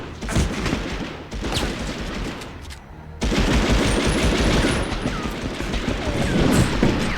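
Dense bursts of automatic gunfire and shots fill a Medal of Honor battlefield, loud and continuous with rapid rattling volleys and occasional heavier booms.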